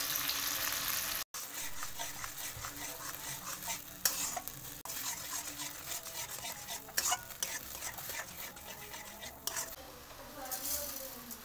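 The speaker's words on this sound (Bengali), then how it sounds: "গাজরটা আমরা পেস্ট করে আগে থেকে রেখেছিলাম, এটাকে আমরা একটু ভেজে নেব" Carrot paste for halwa being stirred and lightly fried in a pan, a steady continuous sizzle with repeated scraping strokes of a spoon against the pan.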